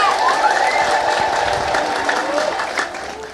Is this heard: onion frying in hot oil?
no